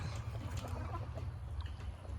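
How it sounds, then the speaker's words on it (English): Backyard chickens in a shaded pen cluck softly and continuously, low and close, with a faint murmur of hens and no talking. "There's my chickens."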